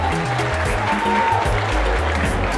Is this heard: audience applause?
yes